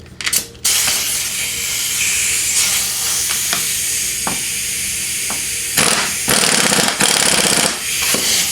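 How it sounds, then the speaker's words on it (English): An impact wrench tightens a strut mount on a 1998 Audi A6 Quattro, giving short loud buzzing bursts with a harsh, broadband tone, the longest near the end, separated by quieter shop background. "next we're going to use our impact to tighten this down"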